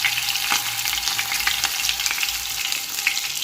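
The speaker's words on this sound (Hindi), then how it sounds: "यहाँ पे कर रही हूँ फ़िश फ्राई" Marinated, spice-coated fish pieces frying in hot oil in a pan, a steady dense sizzle with occasional crackles and pops, close and loud, with no voices.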